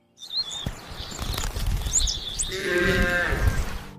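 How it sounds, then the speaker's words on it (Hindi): A flock of sheep bleating close by, several overlapping calls with a longer drawn-out bleat toward the end, over light shuffling and a few chirps. "तभी एक बूढ़ा चरवाहा अपनी भेड़ों के साथ वहां रुका।"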